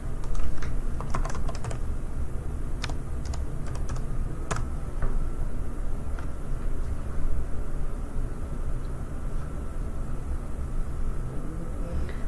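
Password being typed on a computer keyboard: a run of sharp, irregular key clicks, denser at first and then sparser, close by over a faint steady hum.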